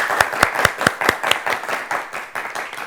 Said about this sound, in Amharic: እስቲ አጨብጭቡላቸው በደንብ ለአራቱ